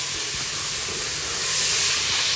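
Onions frying in a hot pan on a gas stove give a steady, close, loud sizzle with continuous hiss and a few faint crackles, and no voices.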